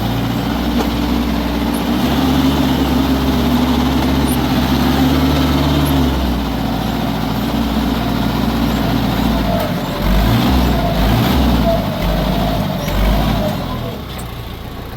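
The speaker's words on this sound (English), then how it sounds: "I'll go out all the way out in reverse and do a loop in reverse and come back and then scrape it." A limping tractor's engine runs loud and close as it reverses on a swim pond construction site, a rough steady diesel drone with shifting pitch and a surge around ten seconds, tapering off at the end.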